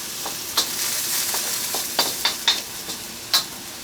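Chicken, onion and mushroom stir-fry in a pan with a steady sizzle, broken by several sharp scrapes and clinks of the utensil.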